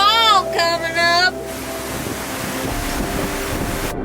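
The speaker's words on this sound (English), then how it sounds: "It's a bit of a gust. Oh, that's strong." A strong squall gust while sailing, heard as heavy, roaring wind buffeting the microphone along with rushing water noise. A person talks briefly at the start before the steady wind takes over.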